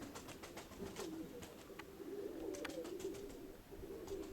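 Pigeons coo in a loft or yard, soft repeated rolling calls rising and falling under faint rustling and some sharp background clicks, with no talk.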